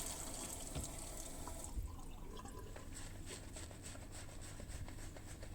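Water runs steadily from a tap into a sink while wet shaving, a soft continuous splashing with faint drips, quiet and close, no voices.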